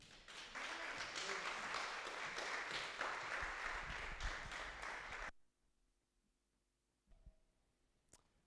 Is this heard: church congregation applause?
yes